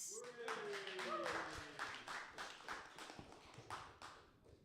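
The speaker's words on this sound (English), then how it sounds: "Keep the applause going." A small open mic audience gives scattered, uneven claps, a few sharp hits at a time, while a voice talks over them near the start.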